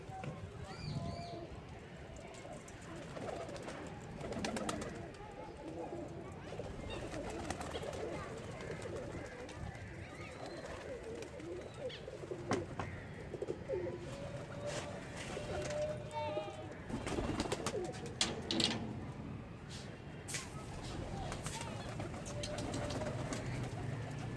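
Pigeons coo repeatedly at close range amid fluttering and shuffling sounds while being fed grain, with faint talk in the background.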